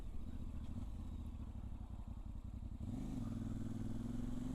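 A Voge DS800X Rally adventure motorcycle rides through a village in second gear, its engine droning steadily up close and the throttle rolling off and back on so the tone dips and then swells again.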